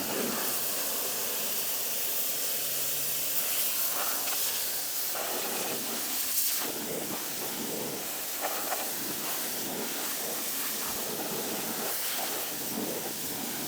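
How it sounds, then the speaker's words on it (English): Water sprays and rinses the underside of a lawn mower deck in a steady, loud hiss that runs the whole time, with small shifts in tone as the jet moves. "So we've done the initial blast."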